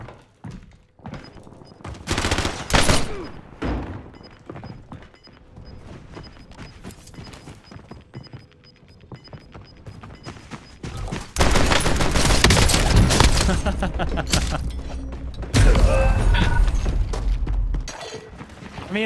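Slug shotgun fire in a tactical first-person shooter, with a string of sharp, loud blasts and impacts that build into dense, sustained gunfire and breaking sounds near the player, and a little talk over it.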